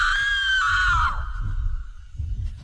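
A loud, shrill human-like scream used as a horror sound effect holds high for about a second, then trails off into a low, dark rumble.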